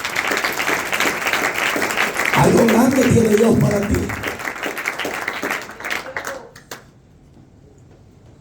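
A church congregation applauds loudly and steadily while a pastor speaks over it in Spanish, the clapping fading out after several seconds.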